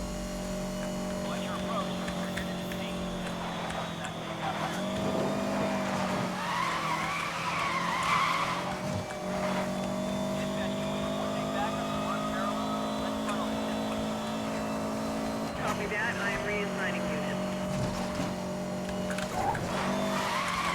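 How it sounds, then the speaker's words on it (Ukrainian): Porsche 918 Spyder racing in Need for Speed: Most Wanted, a steady engine drone with tire squeals and skids, shifting pitch as the car slides, ending in an impact, with someone talking over it. "Перед самим фінішом і в аварію я потрапив"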